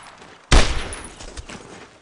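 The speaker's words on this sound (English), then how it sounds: "Put some fire on him!" Gunfire in the World War II game Brothers in Arms: Hill 30, a sudden loud close burst of shots followed by a decaying rattle and scattered quieter shots.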